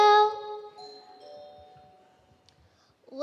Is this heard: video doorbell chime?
yes